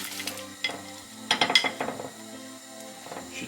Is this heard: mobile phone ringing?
no